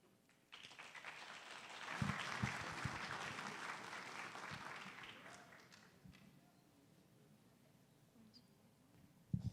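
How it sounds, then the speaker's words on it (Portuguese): An audience at a real estate brokers' jubilee event applauds to welcome the vice-president of Caixa Econômica Federal, sustained crowd clapping with a few sharp nearby claps that dies away, followed by quiet room noise. "Palmas para receber o vice-presidente da Caixa Econômica Federal, Henriete Sartora Barnabé."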